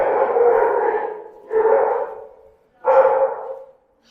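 Three long, echoing barks or howls in a castle's stone wine cellar, separated by short pauses, close and loud with a roomy reverberant tail.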